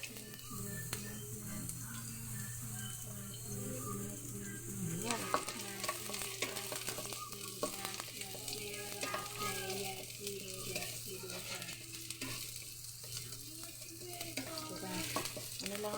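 Vegetables are stirred in a sizzling pan while cooking, steady frying hiss with repeated scraping strokes of the spoon, close and continuous, with occasional faint voices in the background.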